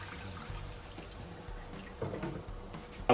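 Water drained off boiled, soggy potatoes cut for fries, a soft pouring and splashing trickle close by, swelling into a brief louder gush at the end.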